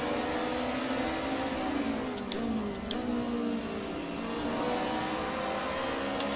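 BMW touring cars race three wide toward a corner at Portimao in Assetto Corsa, engines droning and revving steadily up close with shifting pitch and a few brief higher tones.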